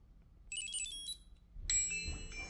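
A smartphone rings when set off by a Maxton MX-LT01 Bluetooth tracker: two short bursts of a bright electronic ringtone, faint and close, with light handling noise between them.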